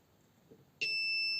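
A faint tap, then a sudden steady high-pitched electronic beep from a circuit test light that holds on, close and clear against quiet background, while testing the fuel door of a 2006 Hyundai Santa Fe.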